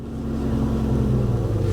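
A car engine runs steadily with a low, close rumble right after being shifted into gear on a cold day at a salvage auction yard.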